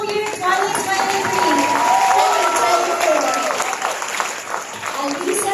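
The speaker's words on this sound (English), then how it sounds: "applause to our class valedictorian for school year" An audience at a senior high school graduation claps for the class valedictorian, a dense, loud, sustained round of applause that continues throughout, with voices mixed into it.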